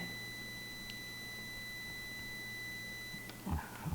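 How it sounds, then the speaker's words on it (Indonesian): A UNI-T UT202 Plus clamp meter's continuity buzzer sounds one steady, faint high tone lasting about three seconds before it cuts off, followed by a few soft handling knocks. "enak nih digunakan buzzer continuity-nya."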